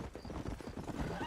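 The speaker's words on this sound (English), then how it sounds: "These are fine horses." Horse hooves clop in a quick, faint rhythm in the Red Dead Redemption video game, with a brief neigh mixed into the low, muffled game audio.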